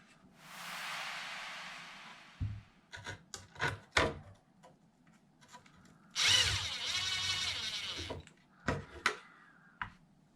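A power driver runs screws into an RC drag Slash car chassis in two bursts of whirring, about two seconds each, separated by sharp clicks and taps of handling parts, close and clear.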